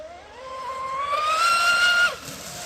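An Oxidean Dominator RC boat on 8S power with 40–42 mm props screams at full throttle, a rising high-pitched motor whine climbing for about two seconds before cutting off abruptly, heard at moderate distance.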